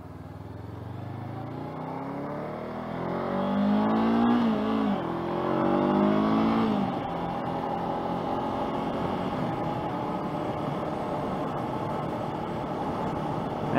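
A 2021 Honda CB500F ABS motorcycle cruising at about 50 in fourth gear, its engine note rising through a gear change and then settling into a steady droning hum under wind rush.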